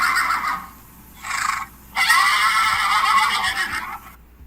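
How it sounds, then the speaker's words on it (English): A horse neighs in two bursts, a short whinny followed by a longer, louder one, close by and clear with little else around it. "something that has a tail, a mane, and says neigh"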